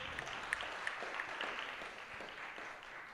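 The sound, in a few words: audience applause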